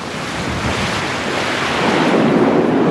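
Stormy sea with waves and strong wind in heavy weather, a dense continuous roar of surf and gusts that swells slightly louder toward the end, with no voices.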